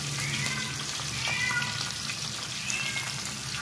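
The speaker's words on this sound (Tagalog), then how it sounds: "Napakainin ng ating pusa." House cat meowing several times in a kitchen, faint high cries heard over loud, steady sizzling of small tawilis fish deep-frying in oil.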